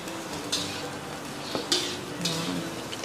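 Food sizzles and cooks steadily in a pan with a little water added, broken by a few soft stirring scrapes.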